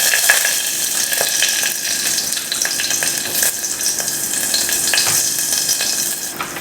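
Green chilli and finely chopped ginger fry in hot oil in a pan, a steady close sizzle broken by frequent scraping stirs, with no voices.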